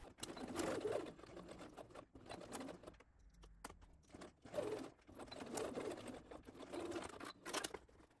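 A sewing machine stitches the side seams of a child's frock with elastic, running in bursts of close, quiet whirring broken by brief pauses.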